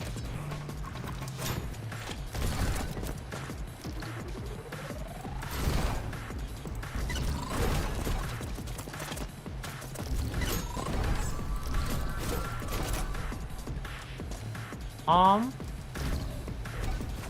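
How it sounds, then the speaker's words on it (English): Fast, busy gameplay audio from the video game Neon White plays continuously, with layered effects, sweeping rising tones, metallic clatter and a bright burst near the end over a steady music-like bed, loud and close. "For anybody who's not heard of Neon White, this is what the game sounds like on top of it all."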